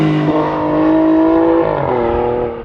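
Alfa Romeo Stelvio Quadrifoglio engine revving through a paddle gearshift, a loud, close sustained engine note that climbs, drops briefly at the shift, then continues.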